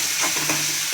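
Ginger garlic paste being stirred in a hot frying pan for spicy egg masala: close, soft scraping strokes over a steady sizzle, with no voices.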